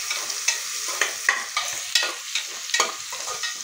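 Onions fry in a pan over a low flame, a steady soft sizzle broken by stirring scrapes and small crackles at irregular intervals, close and without voices.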